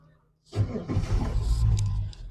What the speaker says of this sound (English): And the boat will fire right up, idles very quietly.